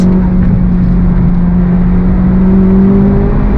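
A 2023 Honda Civic Type R engine drones steadily under load while driving, a loud continuous hum with a slight rise in pitch toward the end and no talk over it.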